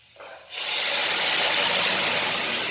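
Water poured into a hot pan of Maggi noodles sets off a sudden loud, sustained hiss of steam and sizzling that starts abruptly and holds steady.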